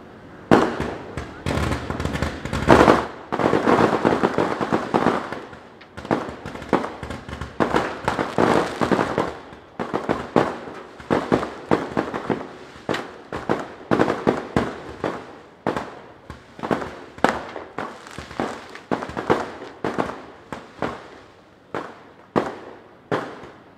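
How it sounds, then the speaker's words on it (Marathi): Firecrackers burst at an outdoor political rally in Guhagar, a long string of loud sharp cracks in rapid irregular bursts, with a crowd and voices underneath. "माझा नेमका वेळ ह्या फटाक्यांमध्येच जातो जास्ती."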